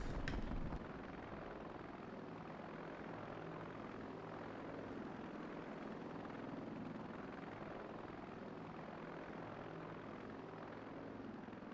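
In the game Heliborne, a descending helicopter keeps up a soft, steady rotor thrum and engine drone, unbroken from start to finish after a brief louder onset, with a thin high whine on top.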